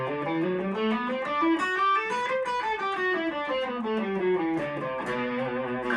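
An electric guitar with effects and distortion plays the Phrygian mode as a continuous, sustained melodic run of overlapping notes, loud and close with no voice.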